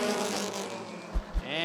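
Race cars take the green flag to start a Bandits heat at Rockford Speedway, engines droning steadily with a rising pitch, mixed with crowd noise and an announcer's voice.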